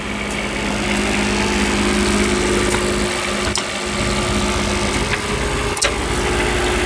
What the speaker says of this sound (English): You have a 7500 kilowatt Onan quiet liquid cool generator. Very quiet, quieter than gas.